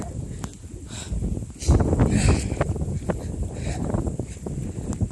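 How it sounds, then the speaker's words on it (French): Blustery wind buffets the microphone with low rumbling gusts, swelling louder midway and staying rough throughout. "j'essaie de cacher le micro du vent. Parce qu'il y a pas mal de vent"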